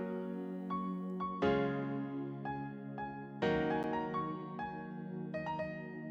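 Synthesized melody of MIDI notes played in reverse order, sharp-attacked tones and chords with stacked harmonics over a steady low bass layer, in a beat-making setting; loud and continuous, with no voices.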